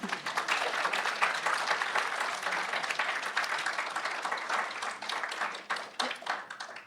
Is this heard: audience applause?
yes